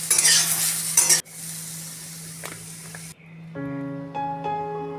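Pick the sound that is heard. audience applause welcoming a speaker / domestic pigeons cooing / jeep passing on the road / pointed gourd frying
pointed gourd frying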